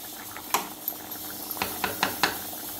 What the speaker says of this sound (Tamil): பாருங்கள், அடுப்புலேருந்து இறக்கின பிறகு கொதிச்சுட்டே இருக்குது.